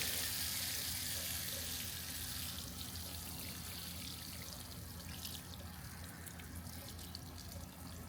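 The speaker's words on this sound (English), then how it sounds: "I'm going to water that in." Water pours steadily and softly from a hose or can onto a newly planted fig tree in a container on a sunny summer garden day, a continuous hissing splash throughout.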